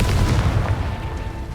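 A Confringo spell blast in the Hogwarts Legacy video game on PS4, a loud, low explosive boom that rumbles and slowly fades, with no talking.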